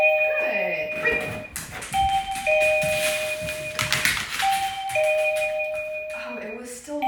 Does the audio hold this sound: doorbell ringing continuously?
yes